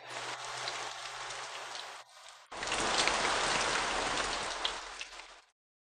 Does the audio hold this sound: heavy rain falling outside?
yes